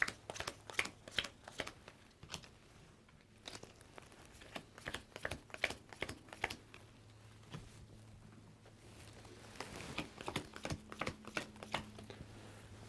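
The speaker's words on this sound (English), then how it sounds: "All of our heroes need to draw a hand of 6 new cards." Cards shuffled and dealt during a tabletop board game, a long run of quick, dry snaps and riffles, dense and irregular, close and fairly quiet over a low hum.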